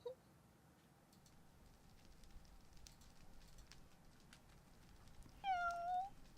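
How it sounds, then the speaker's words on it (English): A cat gives a short meow near the start and a longer, clearer drawn-out meow near the end, faint against a quiet room hiss. "Meow!"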